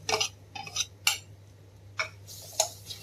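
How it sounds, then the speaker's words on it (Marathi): Garlic paste stirred into browned onions in a pan while making karela (bitter gourd) sabzi: scattered metallic spoon scrapes and clinks against the pan, several separate strokes over a steady low hum, no talk. "आपण आता याच्यात लसूणची पेस्ट टाकू."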